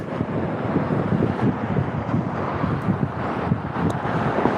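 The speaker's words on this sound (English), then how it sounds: "that's some strong, cold wind coming off them there vehicles" Strong, cold wind gusts from passing vehicles and buffets the microphone with a loud, rough, continuous roar.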